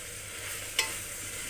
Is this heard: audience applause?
no